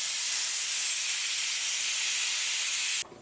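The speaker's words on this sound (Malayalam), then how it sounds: "കുക്കറിൽ നിന്ന് ഒരു വിസിൽ വന്നിട്ടുണ്ട്." A pressure cooker of lentil dal on the stove lets out a loud, steady hiss of escaping steam for about three seconds. Then it cuts off abruptly.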